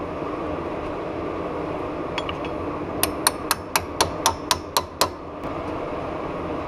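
A chisel ground to a rounded edge is hammered to pound shims into a Jeep JK Eaton E-locker on a Dana 30 axle, about eight sharp metallic strikes in quick even succession over a steady fan-like background hum.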